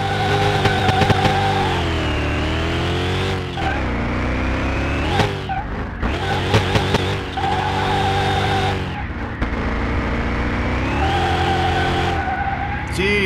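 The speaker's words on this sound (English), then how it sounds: "Jeez, in 4th gear it wants to spin." A supercharged R2 car in the Car Mechanic Simulator 2021 game spins its wheels, the engine revving loudly with a rising and falling whine while tires squeal and skid in repeated bursts.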